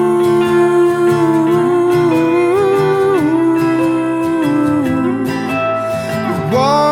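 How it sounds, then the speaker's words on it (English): Electric guitar riff drenched in lush filtered Taped Spaces reverb, with sustained, bending notes and shimmering tails blending together continuously, loud and close with no talk. "we have that really nice lush filtered effect on the other side"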